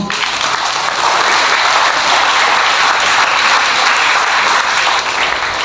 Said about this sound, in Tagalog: pumalakpak sa Panginoon